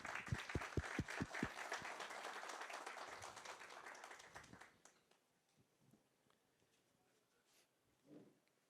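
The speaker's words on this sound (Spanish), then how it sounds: "Un aplauso" Audience applause at a public forum on integrity, loud and dense for about five seconds, then thinning to scattered claps and fading to near silence.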